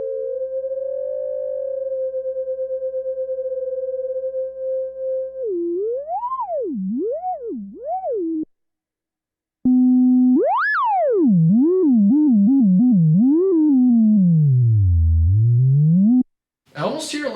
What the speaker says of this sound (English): I almost hear a little bit of stepping in the sine wave frequency.